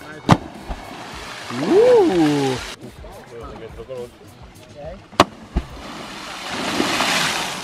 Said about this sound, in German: Schöner Splash, richtig geil